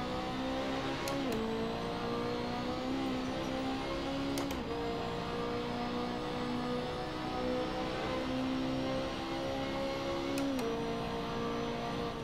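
A BMW M3 GT2 race car laps Road Atlanta in practice, its engine droning steadily with pitch rising and dropping through gear changes and a few sharp shift blips, heard from inside the car.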